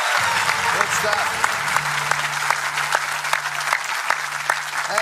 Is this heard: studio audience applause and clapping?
yes